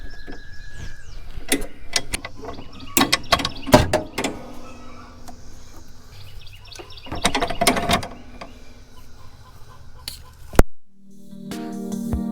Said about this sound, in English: So we'll start taking some of these clips out.